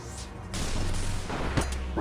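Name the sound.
thundering booms of a range sigil attack in Old School RuneScape video game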